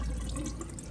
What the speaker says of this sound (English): Rinse them with the water in a colander,